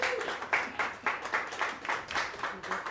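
Guests at a breakfast event in Guam receive a round of applause, scattered irregular claps of a smallish room with audible pulses, while talk overlaps the clapping.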